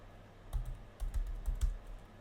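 Typing on a computer keyboard at a desk during a live futures trading session, quick irregular key taps close by at low volume.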